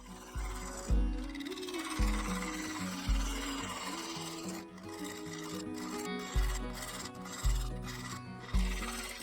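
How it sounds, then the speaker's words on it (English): A woodturning gouge cuts material from a bowl lid on a lathe, making rhythmic scraping and rasping strokes about once a second over the steady hum of the spinning lathe, with no talking. "Using the gouge, I carefully removed material."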